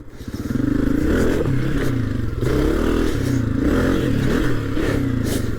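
A 2022 Honda CRF250F dirt bike runs under load while ridden, its single-cylinder engine giving a steady, close, buzzing drone that swells slightly as it picks up speed, with some clattering underneath and no talk.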